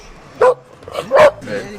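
A pet dog named Nala lets out two short, tuneful howling yelps in a row, sung on command close to the listener, with a person's voice heard faintly between them.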